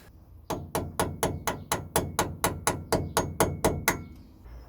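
A hammer strikes a peened 27mm front hub nut on a VW T3 Vanagon about a dozen times in a steady rhythm, each blow a loud, close, ringing metallic clang, with no talking.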